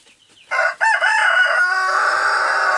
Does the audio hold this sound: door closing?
no